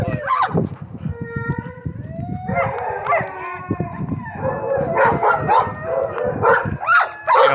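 Dogs at a humane society shelter in Madisonville, Kentucky howl and bark, with long wavering howls overlapping sharp yips and barks, loud and close and building toward the end.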